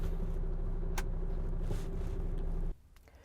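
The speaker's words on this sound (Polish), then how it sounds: "zostawiamy odpalony silnik" Tractor engine left idling in neutral during DPF filter regeneration, a steady low hum with a clear tonal drone that cuts off abruptly near the end, leaving quieter background.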